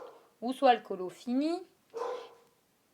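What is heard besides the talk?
dog barking in the background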